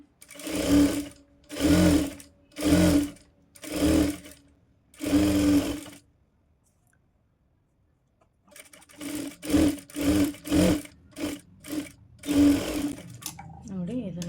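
A sewing machine stitches a blouse lining in several short bursts of rhythmic whirring, pausing silently for a couple of seconds before running again in quicker bursts, close by, with no talking.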